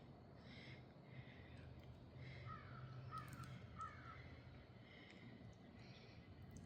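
Crow caws ring out repeatedly in short bursts at a middle distance over steady outdoor rumble near water, with a few calls overlapping.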